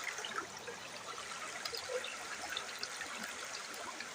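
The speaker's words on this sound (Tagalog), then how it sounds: "Ang lakas ng baha oh." Strong floodwater rushes past in a continuous, dense wash of noise, steady and moderately distant, with no voices.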